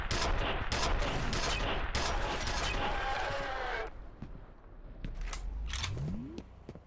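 Rapid gunfire and impacts from Half-Life 2 or F.E.A.R., a dense loud barrage that eases into scattered shots, with voices talking over the action.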